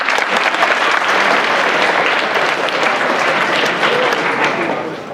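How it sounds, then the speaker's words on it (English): A crowd gives a round of applause at a mock debate candidate visit, loud sustained clapping filling the room for several seconds before tapering off at the end. "so we can give him a round of applause."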